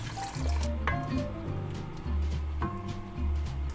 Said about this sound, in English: now's the time to slowly stir in our vegetable broth